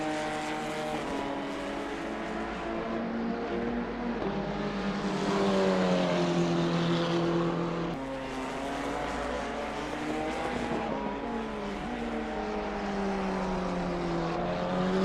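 KTM race machines lapping the Red Bull Ring, the engine note droning close and loud, rising and falling in pitch through gear changes and corners, with a sharp shift break partway through before revving back up.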